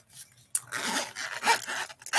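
A separating zipper on a handmade embroidered bag is pulled along its track, a quick rasping run of the slider following a brief pause, close and fairly loud with no talking.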